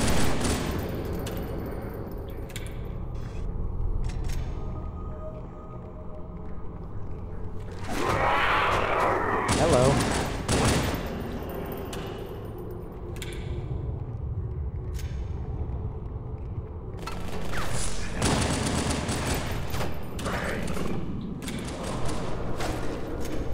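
Dual pistols fire in Halo 2 in sharp bursts of rapid shots, with quieter gaps between volleys, loud and close against a low ambient game hum.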